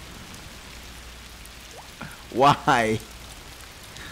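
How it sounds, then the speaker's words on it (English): Steady rain falls throughout a scene in the video game A Plague Tale: Requiem, a soft even patter under a brief spoken question from a person. "Why is it raining?"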